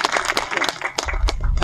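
Audience applause at a literary hall opening ceremony, a short burst of clapping from a crowded room, close and fairly loud, with a low rumble entering near the end.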